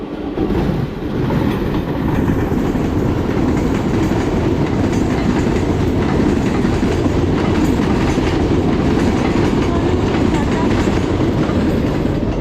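A through train rushes past at close range, a loud, continuous rumble with rhythmic wheel clatter that holds steady from start to end.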